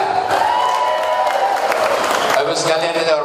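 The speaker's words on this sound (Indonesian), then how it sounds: "Tepuk tangan untuk semuanya" Applause and cheering from a crowd at an Indonesian campaign event against violence toward women, dense and sustained throughout, with voices mixed in.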